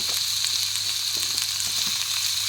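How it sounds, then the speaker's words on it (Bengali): Capsicum and paneer frying together in a pan or kadai, a steady close hiss of sizzling oil with faint scattered crackles and pops running continuously and alone. "এরপর দুটোকে একসঙ্গে ভালো করে ভেজে নেব"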